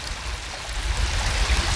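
Creek water flows steadily close by, a dense continuous rushing wash with no talk over it.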